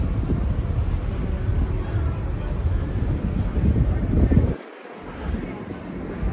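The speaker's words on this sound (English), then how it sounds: "You probably hear that wind." Steady wind buffeting the microphone on the Las Vegas Strip at night, a loud low rumble throughout with a brief lull near the end.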